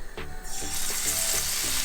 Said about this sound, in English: that's what you want to hear, a nice sizzle